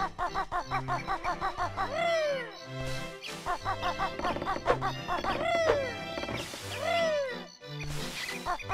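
A chicken in the video game Banjo-Kazooie clucks over and over in quick pitched bursts, with squawking calls that swoop down between them, set against a bouncy game melody.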